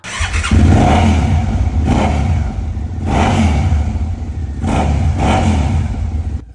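An old motorcycle engine cranks and starts after a battery charge, then revs loudly in repeated surges, rising and falling in roughly three bursts with a steady idle rumble between them; no voices.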